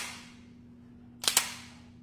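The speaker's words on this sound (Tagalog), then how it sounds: "tignan niyo po yung tunog ng kanyang slide pag inatras mo" A Springfield Armory pistol slide is pulled back and released, giving two crisp, close metallic clicks in quick succession after a quiet pause.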